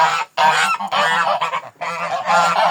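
Flock of geese honking loudly and continuously in harsh overlapping bursts, with only brief pauses, close by and without voices.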